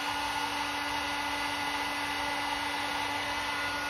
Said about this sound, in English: I'm going to go ahead and heat gun this other side